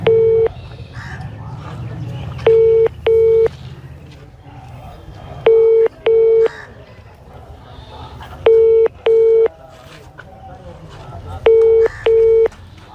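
Phone ringback tone on an outgoing call, loud paired beeps repeating at regular intervals about every three seconds, with faint background noise between rings.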